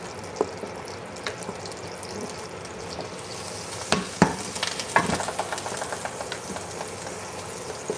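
Burrito bowl filling being stirred in a pan as it sticks to the bottom, a steady low sizzle broken by a few sharp scraping clicks near the middle, with no talking.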